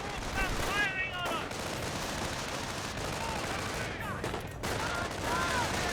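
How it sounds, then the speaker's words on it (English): Enemy infantry open fire in the Company of Heroes strategy game, a steady crackle of rifle and machine-gun bursts rattling across several seconds with brief whistles and dips, a busy mid-distance battlefield fusillade. "Enemy troops are firing on"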